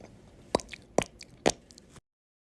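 Three distinct crunchy, squelchy bites or crunches of creepy crawlies in a gooey stew, evenly spaced about half a second apart, close and fairly loud, followed by a softer squish and then silence.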